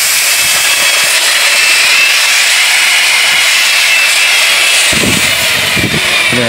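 A grinding machine at a used marine and ship hardware stall runs with a loud, steady, close whine and hiss, with a few low knocks near the end and no speech.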